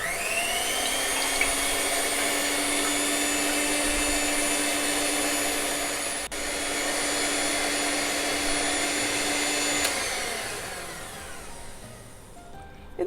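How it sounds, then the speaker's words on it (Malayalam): An electric mixer beats egg whites to a foam for a Christmas fruit cake with a steady, droning motor whine that holds for about ten seconds, briefly dips, then winds down near the end. "ഇനി നമുക്ക് മുട്ടയുടെ വെള്ള നല്ലതായിട്ട് അടിച്ച് പതപ്പിക്കാം"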